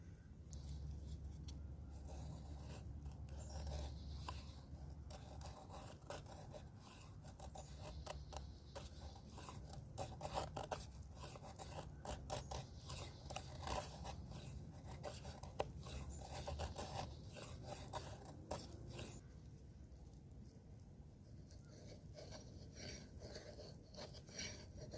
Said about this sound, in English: I've actually never tried feather sticking with an axe or anything.